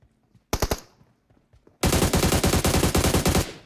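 Gunfire in the video game PUBG Mobile: a short burst of four rapid shots, a brief pause, then a loud sustained automatic volley of evenly spaced shots close up.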